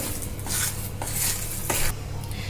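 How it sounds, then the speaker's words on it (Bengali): Mung dal mixture being stirred together with spices, with repeated scraping strokes against the pan and a faint sizzle underneath, several sweeps in a row at close range. "এবার সুন্দর করে আমি ডালের এই মিশ্রণটাকে মিশিয়ে নেব সব মশলার সঙ্গে।"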